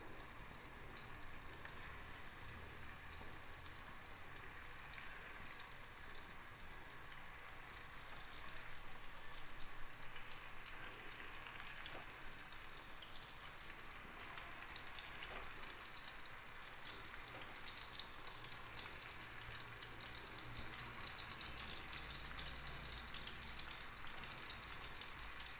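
Chicken kebabs fry in a pan with a steady, bright sizzle of hot oil that runs throughout and grows a little louder partway through, with no talking.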